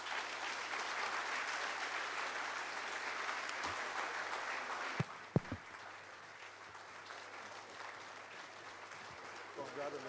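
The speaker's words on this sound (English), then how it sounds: "let the applause roll" An audience at a Nestoil brand launch in Nigeria claps steadily and loudly for about five seconds, then the applause thins to scattered claps under a voice speaking over it.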